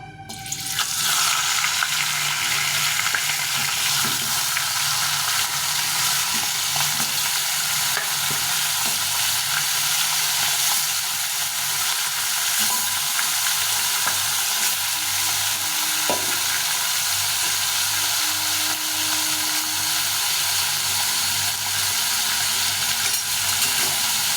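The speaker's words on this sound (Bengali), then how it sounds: "মাছের মুড়োগুলোকে ভেজে নেব।" Fish heads coated in spices fry in hot oil in a wok, giving a loud, dense, continuous sizzle close up with occasional stirring scrapes and no talking.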